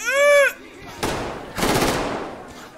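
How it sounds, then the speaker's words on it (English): Gunfire in the video game Metro Exodus: a few loud, close bursts of rapid shots, the second and longer burst fading out, after a brief synthetic tone at the start. "What are you shooting at?"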